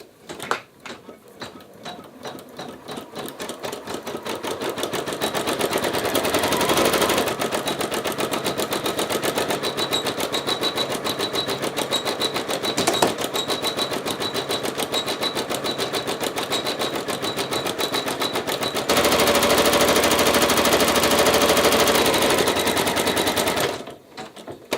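Embroidery machine stitching a small heart design onto a T-shirt held in a hoop with stabilizer, a rapid steady mechanical needle chatter that runs continuously and loudly for most of the time, shifting pitch briefly before stopping.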